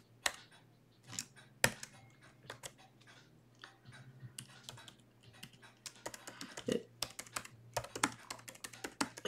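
Rapid clicking of computer keys in irregular bursts, close and fairly quiet, with brief pauses between runs of typing.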